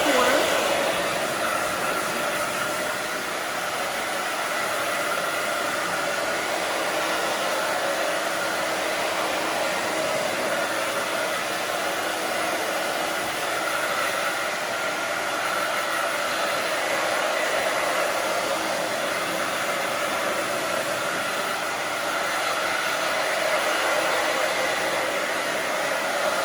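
Hair dryer blowing steadily at close range while drying short pixie-cut hair, a loud continuous whooshing roar with slight swells as it moves back and forth.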